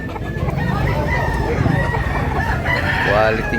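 A rooster crows close by over a dense background of clucking fowl at a market in Tabunok, Cebu.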